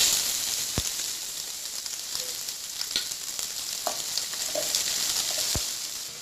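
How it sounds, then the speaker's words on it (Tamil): Mustard seeds sizzle in hot oil for tempering a chutney, with a steady crackling hiss. Occasional sharp pops stand out, and no one speaks. "டீஸ்பூன் நம்ம தாளிக்கிறதுக்கு எண்ணெய் ஊற்றிருக்குறோங்க. இதில் வந்து நம்ம கடுகு போட்டுக்கலாம்."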